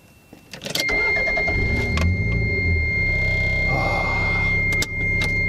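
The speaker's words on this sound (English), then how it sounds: "it's time to see if the car will start" A car engine cranks and catches after a jump start from a second car, then settles into a steady, loud idle. A few sharp clicks and knocks sound over the running motor.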